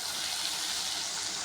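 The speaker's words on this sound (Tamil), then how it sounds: "இப்போ நம்ம தண்ணி ஆட் பண்ணிக்கிறோம்." Water is poured into a cooking pot while making rava kichadi, a brief steady hissing splash that is fairly faint, with no talking.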